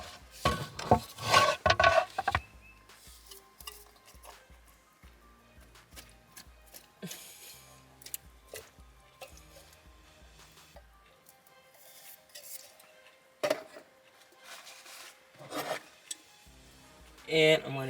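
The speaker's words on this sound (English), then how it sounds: "Now I'm gonna take these drained artichoke hearts, get them on my cutting board." Drained artichoke hearts set onto a cutting board, giving loud close rubbing and scraping bursts at first, then quieter scattered taps and clatters with occasional sharp knocks.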